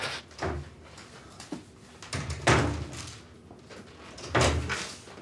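Door being shut in a Ukrainian home drama scene: several dull thuds and knocks spread across the stretch, the loudest near the middle and end, with no talk.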